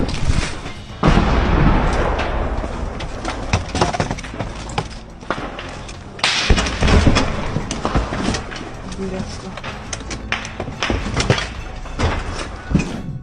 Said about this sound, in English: With explosions and gunfire in the background, the sniper continued to advance in that destroyed house